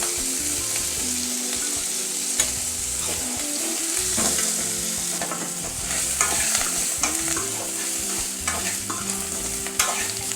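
Grated coconut sautéing in coconut oil with curry leaves, stirred steadily, giving a continuous soft sizzle with scraping spoon strokes over quiet background music.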